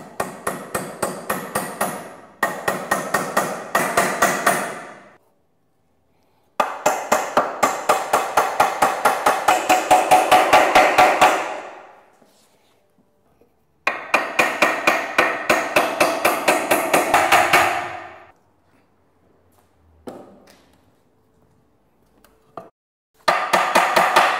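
Nails hammered into wood while building a screen-printing table: long runs of sharp, evenly spaced hammer blows, loud and close, broken by short pauses and a few scattered knocks, with no talk.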